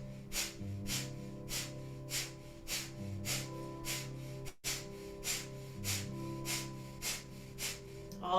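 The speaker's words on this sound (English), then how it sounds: "so just pumping the navel, like panting like a dog through the nose." Rapid rhythmic nose breathing of Kundalini breath of fire, pumped from the navel, runs as a steady series of sharp, close sniffing exhalations, about two per second, over a soft sustained background tone.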